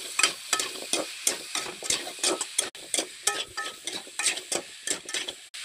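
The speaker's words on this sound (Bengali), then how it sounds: "এবার এই গুগলিটা দিয়ে দিচ্ছি।" Freshwater snails tossed into a pan of pumpkin cooked down with masala, stirred in quick, steady scraping strokes over a soft sizzle, close and fairly loud with no talking.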